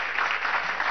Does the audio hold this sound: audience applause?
yes